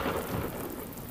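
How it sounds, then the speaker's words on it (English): Steady rain in the video game Deadly Premonition, a dense even hiss of downpour with low rumbling like thunder underneath, continuous and fairly loud throughout with no voices. "Especially when it is raining."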